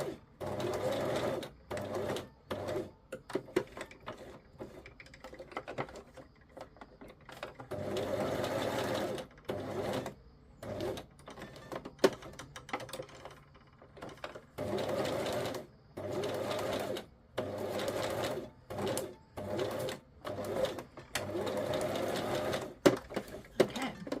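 A sewing machine runs in repeated bursts through fabric, a fast rattling whir that starts and stops every few seconds with brief quiet gaps, close and fairly loud.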